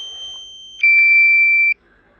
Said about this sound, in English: That alarm is really annoying.